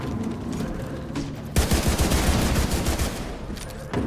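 Sustained automatic gunfire in the video game The Division 2, starting abruptly partway in and rattling on loud and close over a steady game background.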